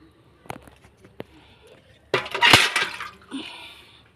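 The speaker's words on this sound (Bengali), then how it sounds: "এবার জল ঢেলে দেবো।" Water poured from a container into a fertilizer mix for a night jasmine plant, a short splashing gush after a few faint clinks, near and moderately loud.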